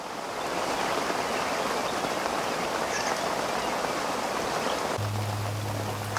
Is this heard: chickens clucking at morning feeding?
no